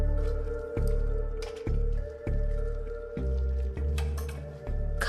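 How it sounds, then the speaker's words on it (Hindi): Wet skin peels off a dead body that has been in water for days. It makes a series of slow, close squishing, sucking sounds in uneven pulses with no talking. "खाल इस तरह से निकल जाती है।"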